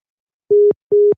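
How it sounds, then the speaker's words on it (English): Telephone line tone after a caller hangs up during a live call-in show: two short steady beeps, each about a quarter second, evenly spaced and clear, with no talking. "I heard him hang up then"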